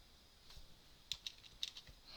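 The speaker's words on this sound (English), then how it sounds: "So I'll just type in append" Light, quiet clicks from a computer keyboard as someone types a short word, with a few sharper keystrokes standing out in a brief, uneven run.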